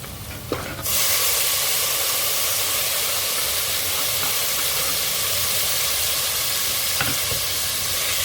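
Tomatoes dropped into a hot pan for a fenugreek-leaf chickpea masala, a brief clatter then a loud, steady sizzle and hiss that runs on continuously, close up and without talk.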